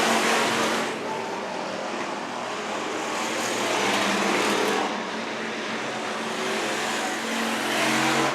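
Hobby stock race cars roar around the oval at Worthington Speedway, a dense, continuous engine drone that swells and fades as the pack passes, with faint tire noise and no voices on top.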